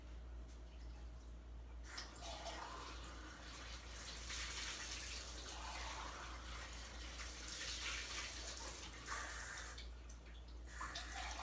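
A kitchen tap running cold water, a steady close hiss and splash into a sink that shifts in intensity as the flow is adjusted, with a low hum beneath and no voices.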